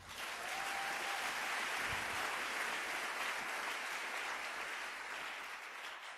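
A church congregation applauds during a worship service, a dense steady wash of clapping that fills the whole stretch at moderate distance.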